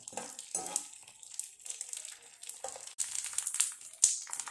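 Edible gum (dink) frying in hot ghee in an iron pan, with soft crackling sizzle and scraping stirs that come in bursts, plus a few sharp metallic clinks of a spoon against the pan.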